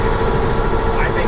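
An old-school V8 diesel truck engine, from a 1989 Mack Superliner or 1977 Kenworth W900A, idles with a loud, steady, rumbling drone close by, people talking over it.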